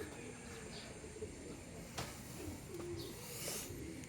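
A racing pigeon coos softly during a 50 km training toss in San Miguel, Bulacan, a few faint low calls over hissy outdoor background noise and distant sounds.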